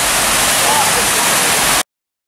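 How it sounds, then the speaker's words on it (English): Rushing water from a waterfall at Epcot, Walt Disney World, a loud, steady, close hiss that cuts off abruptly. "Pretty waterfalls, huh?"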